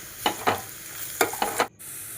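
A spoon stirs a frying mixture with turmeric in a pan, giving a few scraping strokes over a steady low sizzle, close and distinct.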